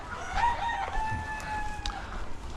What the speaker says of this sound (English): As a general rule, Rooster, we do not have chickens sleeping out here